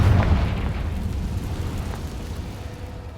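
A Confringo blasting spell explodes in Hogwarts Legacy, a deep boom at the start that decays into a low, rumbling tail for a few seconds.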